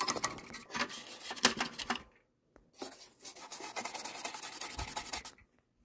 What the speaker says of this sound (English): Time to use the handy dandy toothbrush.